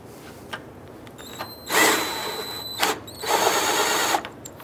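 A power driver tightens a bolt on a 2004-2009 Dodge Durango during a camshaft position sensor replacement, with two sustained whirring bursts and a few short blips, close and moderately loud, with no talking.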